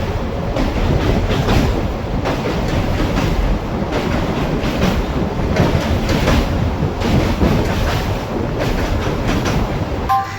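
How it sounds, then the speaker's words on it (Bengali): The Aranyak Express races past at high speed while overtaking the Bengaluru–Howrah Express, a continuous loud roar of wheels and rushing air with rhythmic clatter throughout, close by and steady for the whole stretch. "বেঙ্গালুরু হাওড়া এক্সপ্রেসকে ওভারটেক করছে আরণ্যক এক্সপ্রেস"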